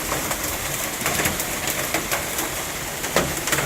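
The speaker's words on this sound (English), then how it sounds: "Raining, raining, raining," Steady rain falling outdoors, a dense continuous broadband hiss with a few brighter spattering bursts, loud and close throughout with no voices.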